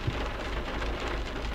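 Steady rain pouring down outdoors, a loud dense hiss of drops hitting surfaces without pause, heard alone with no voices.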